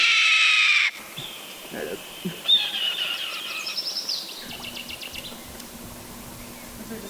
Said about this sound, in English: when you see a bald eagle in a movie, we'll have that red-tailed hawk sound dubbed over it